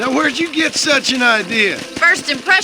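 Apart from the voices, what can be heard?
None of the usual background noises is heard.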